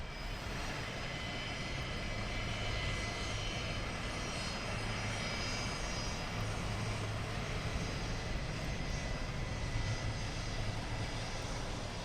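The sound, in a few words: EasyJet aircraft landing at London Luton Airport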